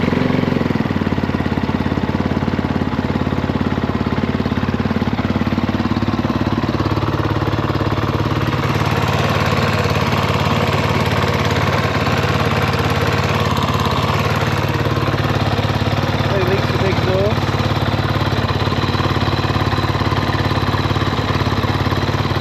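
A Kove 450 Rally motorcycle engine fires up and settles into a loud, steady idle close by, its throbbing rumble continuous throughout with no talking.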